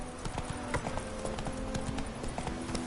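Hooves of a horse in a PS4 fantasy video game clop rapidly in a steady running rhythm, crisp and close, continuing throughout without pause.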